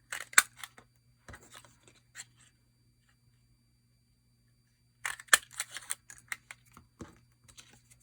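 Scissors snip through cardstock in two bursts of short, close, crisp cuts separated by a quiet pause.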